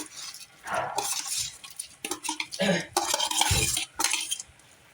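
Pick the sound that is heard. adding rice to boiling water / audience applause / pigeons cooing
adding rice to boiling water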